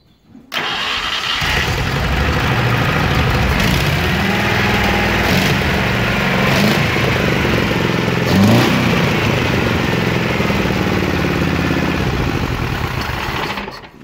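A ZAZ-965 car engine with a new carburetor and gasket starts and runs steadily, loud and close for the whole stretch, with a brief rev swell partway through and no talk over it.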